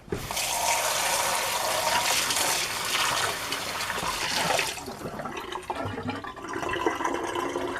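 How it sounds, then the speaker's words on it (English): Tap water gushes into an oily bottle to rinse it, making a loud, steady rushing pour that shifts to a sloshing, gurgling tone partway through. "I'm going to rinse out number 2."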